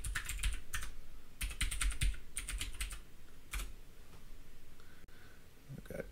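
A computer keyboard is typed on in quick bursts of crisp close clicks, pauses between groups of keystrokes, then a single firmer key press, with no voices.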